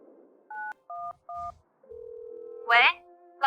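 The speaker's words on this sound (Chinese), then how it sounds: "打个电话问问情况吧。" A telephone keypad sends three short dual-tone dialing beeps in quick succession, followed by a longer steady tone, then brief voices right at the end.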